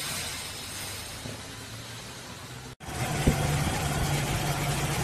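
Toyota Kijang with a 5K engine starting, then idling. A steady low hum runs up to a brief gap and resumes slightly louder, with a short knock, continuing evenly to the end.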